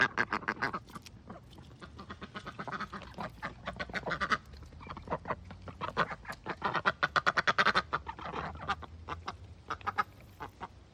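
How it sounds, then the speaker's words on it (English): A runner duck quacking repeatedly alongside other ducks, a busy stream of loud, close honking quacks that clusters into rapid bursts, with no talking. "She's a runner duck."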